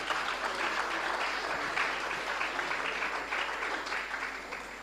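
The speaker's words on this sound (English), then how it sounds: "Can we give them another round of applause" Steady, dense applause from a crowd, sustained at an even level throughout and tapering slightly at the end.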